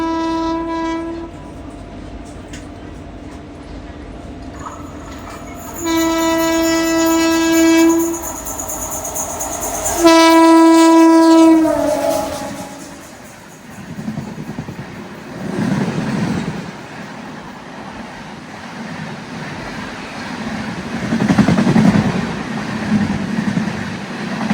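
The Chetak train on North Western Railway in Rajasthan blasts a loud sustained two-tone horn in repeated long blows, then rumbles past with clattering wheels that rise and fade.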